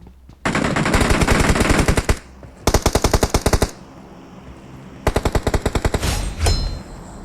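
An enemy player in a PUBG-style mobile battle royale fires loud, close automatic bursts. Three rapid strings of shots are separated by short pauses, and a final single crack lands near the end.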